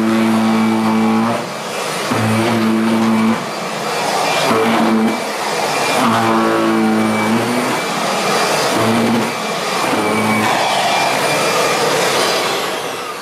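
A Kirby Avalir vacuum runs with its portable deep cleaning tool attached, a loud, steady motor whine with heavy vibration that surges and dips rhythmically as the tool is worked back and forth, with no talking.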